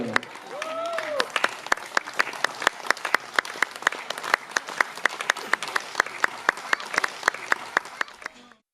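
Applause from a hotel audience at the Barcelo Tiran resort in Sharm el-Sheikh, Egypt, with a steady crowd wash and sharp individual claps punctuating it throughout, fading out at the end.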